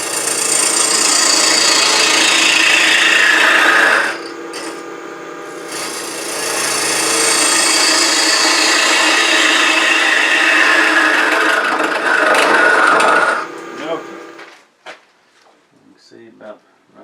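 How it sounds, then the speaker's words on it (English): Wide parting tool truing up a spinning wood blank on a lathe, a loud, close, continuous scraping rasp in two long passes broken by a brief pause, then tapering into scattered light taps and scrapes. "I'm going to use my beading and parting tool, or my wide parting tool"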